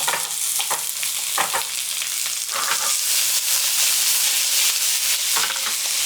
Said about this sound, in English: Onions go in.